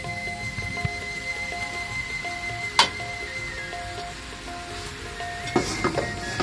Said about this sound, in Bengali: এখন আমি কড়াইয়ে করলাগুলো দিয়ে দিচ্ছি